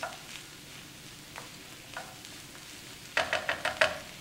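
Utensil stirring sausages cooking in a pan for an Italian pasta sauce, with a soft background sizzle and a quick run of five or six sharp scraping strokes near the end.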